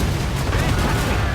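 Ship cannons fire during a naval battle in the video game Assassin's Creed Rogue, heard as repeated loud booms over a dense, noisy sea-fight backdrop with no clear speech.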